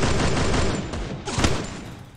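Groza assault rifle in a shooter video game firing a continuous dense burst of rapid automatic shots, loud and close, with a brief lull and a fresh volley near the end, and no voices over it.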